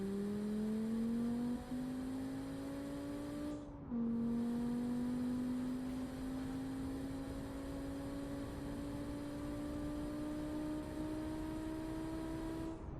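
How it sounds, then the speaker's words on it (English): A car engine drones steadily and loudly, its pitch climbing slowly through a gear, with a brief dip around a shift before rising again. "It's actually a nice sports car. The engine is sounds good."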